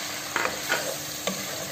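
Meat frying in oil with garlic in a home kitchen, a steady low sizzle broken by a few short stirring scrapes, close and fairly quiet with no voices.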